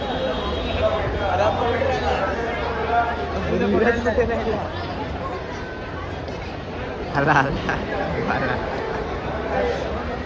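Busy hubbub of a temple crowd at Siddhivinayak Temple in Mumbai, an indistinct babble of many voices around a nearby speaker who talks throughout, with occasional brief clatters.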